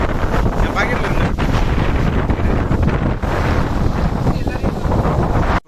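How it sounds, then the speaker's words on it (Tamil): Cool wind gusting steadily across an open coconut farm at Thevaram in Theni, a loud broadband rush buffeting the microphone for several seconds with no breaks, no voices, and then cutting off abruptly. "இங்கே வந்து ஜில்லுன்னு காற்று அடிச்சுட்டே இருந்தது"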